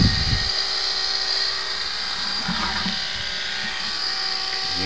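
A pump fills a garden tractor tire with washer fluid, giving a steady high-pitched mechanical whine that holds at an even level throughout, with a brief low thump at the start.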